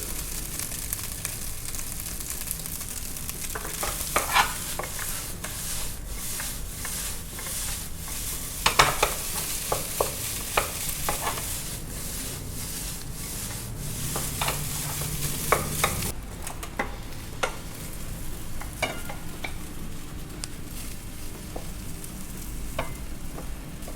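Alligator fried rice is stir-fried in a pan with sesame oil, a continuous loud sizzle broken by repeated scraping and tossing clatters of the spatula, with no voices.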